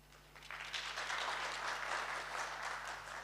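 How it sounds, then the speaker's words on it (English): Steady applause from an academic ceremony audience at Gdańsk Tech, a broad wash of clapping that swells quickly and holds at an even level throughout. "award each of our honorable guests with short but nevertheless vigorous round of applause"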